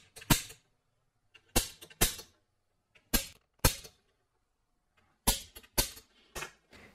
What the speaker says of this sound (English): I'll use an automatic center punch to mark where the hole will go.